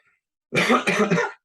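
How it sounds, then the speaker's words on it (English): A single short, throaty cough burst with a couple of rough pulses, close to the microphone, after a moment of silence. "Excuse me, I got a cough here."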